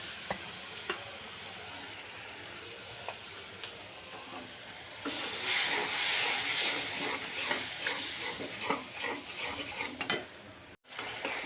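Spice masala with coriander powder sautéed in a pan for a pangas fish head dish, a soft continuous sizzle that grows louder midway, with scattered faint scrapes of a spatula.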